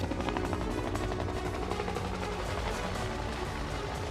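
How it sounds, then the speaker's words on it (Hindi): Indian Air Force Mi-17 helicopters pass over the Red Fort during an Independence Day flower-petal salute, giving a steady, loud rotor drone with a dense rhythmic chop that holds throughout without any voices. "एयरफोर्स MI-17 हेलीकॉप्टर्स ने लाल किले के आसमान से पुष्प वर्षा कर तिरंगे को सलामी दी"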